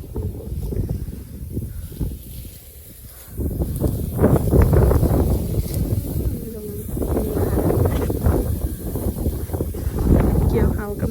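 Wind gusting over a rice field at harvest, a broad rushing roar buffeting the microphone that strengthens midway and stays loud, with someone talking over it.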